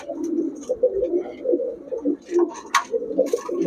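Pigeons coo in soft, repeated low murmurs close by, with a few faint ticks and small rustles between the calls.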